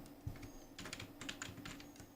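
Someone types a title into Edius editing software on a computer keyboard, a close, busy run of uneven keystrokes with brief pauses.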